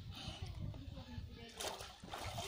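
A child dives into water, giving a brief splash and slosh that rises amid continuous low water movement, with voices talking faintly around it.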